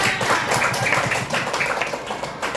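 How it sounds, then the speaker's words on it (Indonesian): Classmates give a student a round of applause, steady, busy clapping from a small group in a classroom, continuous and fairly close with some voices mixed in. "tepuk tangan buat dia"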